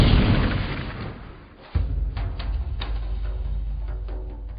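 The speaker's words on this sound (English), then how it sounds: "there were a bunch more bright blue flashes and a huge explosion." A huge explosion booms amid bright blue flashes, a loud deep blast that drops off, then a second heavy boom with rumbling aftermath and scattered crackles in a science fiction scene.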